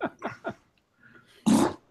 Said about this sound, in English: I see you farted, and now you're breaking up.